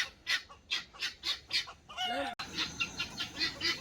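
Chickens in a backyard coop cluck in a steady run of short, fairly close calls, with a brief rougher squawk in the middle and more clucking after it.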